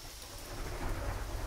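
Thunder rumbles low beneath steady rain pattering on surfaces during a thunderstorm, a continuous wash of rainfall with deep rolling thunder swelling slightly toward the end, no voices present.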